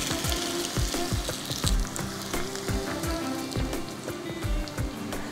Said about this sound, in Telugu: స్టవ్ మీడియం ఫ్లేమ్లో పెట్టుకొని కాల్చుకోవాలి.